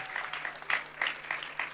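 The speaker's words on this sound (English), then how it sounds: "So round of applause for Akash and Hassan." Sparse, short burst of audience clapping for sitar player Akash and tabla player Hassan at a festival music program in Cabella, Italy; a handful of distinct claps stand out over a thin room murmur.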